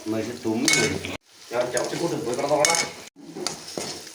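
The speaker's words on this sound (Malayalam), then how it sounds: "ഇത് ബജ്ജി മുളകാണ് കേട്ടോ വറുക്കണത്" Bajji chillies frying in hot oil for a Kerala-style Ramadan meal, a steady close sizzle with clinking utensil and stirring sounds, broken by two brief pauses.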